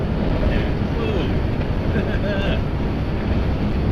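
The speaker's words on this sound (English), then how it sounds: "That wind's blowing hard." Strong wind gusts roar steadily and loudly against a truck as it crosses a windy bridge during a winter storm, a close, continuous rushing buffet with faint whistling tones.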